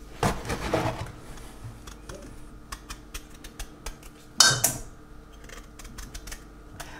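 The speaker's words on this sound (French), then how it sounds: "Je le coupe en 4, ça sera plus facile." A knife cuts a peeled celery root into quarters on a board in a home kitchen, giving sharp clicks and a couple of heavier chops spread over several seconds, close and fairly quiet, with no talking.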